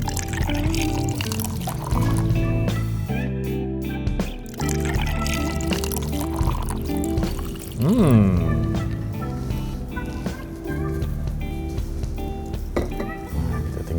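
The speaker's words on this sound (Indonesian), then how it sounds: "Ini kita tuang susunya. Kita pakai susu full cream." Full cream milk poured into coffee for an iced milk coffee, a steady liquid stream with glassware clinks, heard under continuous background music.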